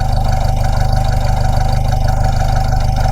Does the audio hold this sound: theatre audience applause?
no